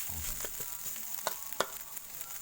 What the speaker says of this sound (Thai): สำหรับการผัดพริกแกงครับ